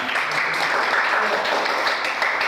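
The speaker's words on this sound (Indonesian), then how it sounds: "Kasih aplaus untuk teman Anda." Classroom applause, a steady wash of many hands clapping together for a few seconds at moderate loudness, with no voices.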